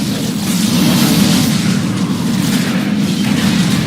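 Bomb blast in a video game raid boss fight, a loud continuous rumbling boom with dense crackling bursts that stays thick and sustained throughout, with no voices over it.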